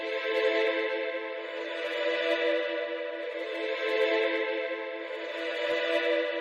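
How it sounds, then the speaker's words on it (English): Virgin Choir plugin playing a melody with a sung E-vowel articulation, a sustained layered choral tone swelling and fading gently with no talking. "So this is the Virgin Choir plugin."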